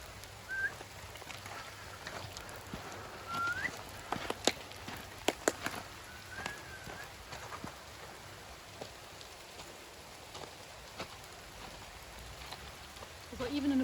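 Steady rain patters on surfaces at a low level, with scattered heavier drips and a few faint bird calls.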